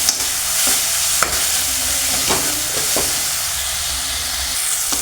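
Tomatoes fry in a pan for shalgam matar sabji, a constant loud sizzle with a few sharp scrapes of a ladle stirring through it, close and without voices.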